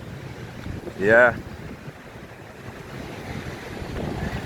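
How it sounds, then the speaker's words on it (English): Strong wind howls and roars steadily as Hurricane Melissa approaches Jamaica, with a rough sea nearby, and a voice briefly speaks over the gusts. "Can hear the wind howling."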